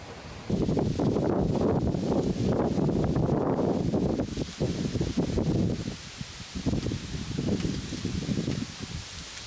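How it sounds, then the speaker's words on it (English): Wind gusts around an island log cabin in uneven, rushing bursts that buffet the microphone, rising and falling over several seconds with no talking. "It is windy"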